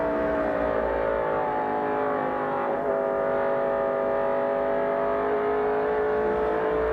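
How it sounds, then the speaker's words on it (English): A 1988 NASCAR Winston Cup stock car at the AC Delco 500, its engine roaring steadily and close, with the driver lifting off and back onto the throttle so the pitch dips and rises. "Just some great natural sound there from that race car as Rick Wilson gets off the throttle and on"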